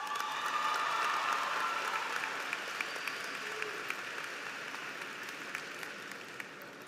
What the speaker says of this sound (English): Now bring a round of applause